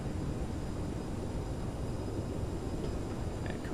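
A CRJ 700 airliner in Microsoft Flight Simulator on its landing roll with reverse thrust, a loud, dense, steady broadband jet roar filling the whole clip without letup, ending in a few faint tonal chirps.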